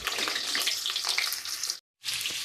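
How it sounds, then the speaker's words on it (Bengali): Potatoes frying in mustard oil in a wok, a bright close sizzle with crackling spatters that cuts out abruptly for a moment before resuming. "এবার এর মধ্যে আলুগুলোকে আমি জাস্ট ভেজে নেব"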